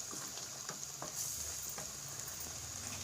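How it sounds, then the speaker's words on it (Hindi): Arvi gosht, taro and meat, sizzles and fries in a pan with a steady bright crackle, close and continuous, with a few soft stirring scrapes. "अच्छे से हम इसे भूनते जाएंगे।"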